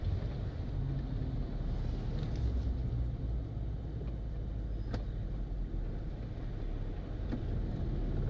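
Road traffic outside the national stadium in Grenada: a steady low rumble of passing vehicles with wind buffeting the microphone, continuous and moderately loud, with a few faint clicks.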